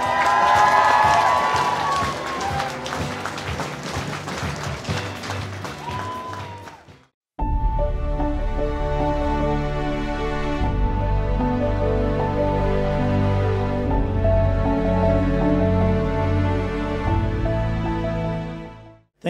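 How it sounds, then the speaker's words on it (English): Wedding guests applaud and cheer for newlyweds Christopher and Dimitria, loud crowd clapping over music, then the music continues after a brief cut. "let's hear a big round of applause for Christopher and Dimitria Bozanowski"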